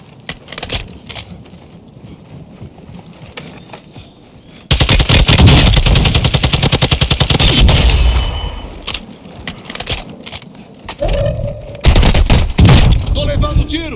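Call of Duty: Warzone 2.0 gunfire on Ashika Island in squads mode: scattered shots, then a long, loud burst of rapid automatic fire, followed by more short volleys, with a voice speaking intermittently underneath.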